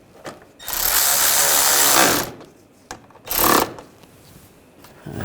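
A power tool snugging down bumper cover bolts on a 2009-2010 BMW 535i xDrive, two short whirring bursts, the first longer, separated by quiet.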